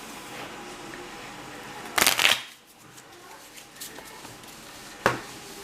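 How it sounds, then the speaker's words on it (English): A deck of playing cards is shuffled before a tabletop game, with one loud riffle burst followed by quieter handling and a second short riffle near the end. "I picture some of the lads that like my content seeing me shuffling like this"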